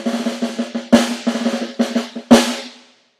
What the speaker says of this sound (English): The snare is one of the loudest instruments